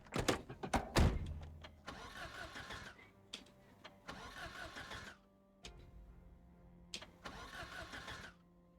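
A car engine in the video game Project Zomboid cranks over and over without catching, in three long grinding bursts separated by pauses and preceded by a few sharp clicks, loud and close.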